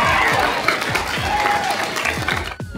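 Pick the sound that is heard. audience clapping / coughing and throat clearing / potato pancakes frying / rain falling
audience clapping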